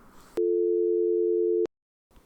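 A steady electronic phone tone from X-Lite softphone software holds for just over a second, loud and clean, then cuts off sharply, with faint noise before and after.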